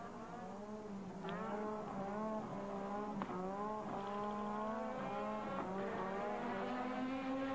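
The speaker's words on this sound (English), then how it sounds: "A lot of spinning wheel now, as you can see there, is smoking from the tires." A 1985 Formula 1 car spins its wheels at Spa-Francorchamps, the engine howling in rising, wavering pitches, with sharp bursts of strain. The sound is loud and steady throughout, with no one talking.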